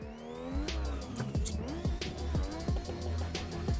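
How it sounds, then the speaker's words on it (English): Car drifting out of a J-turn, with repeated loud tire squeals that sweep up and down over a revving engine, close and continuous. "So we've got a J-turn into a drift."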